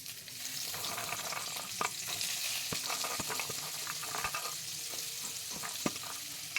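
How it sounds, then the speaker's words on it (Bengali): Carrots fry in a pan for fried rice, a steady close sizzle punctuated by occasional clicks and scrapes of stirring, with no voices. "তবে লবণ দিয়ে গাজরটা এখন ভাজা হবে হালকা হালকা একটু"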